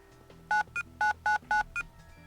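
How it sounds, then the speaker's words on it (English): Cell phone keypad dialing in a visual novel: six short, bright electronic beeps in a quick, slightly uneven sequence, sounding clean and alone over a faint background. "Taking out my cell phone, I dialed the principal's private number from memory."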